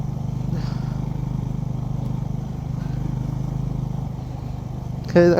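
A motorcycle rides a mountain road in Arunachal through cloud, its engine a steady low drone with wind rush, then a sudden louder burst of revving right at the end.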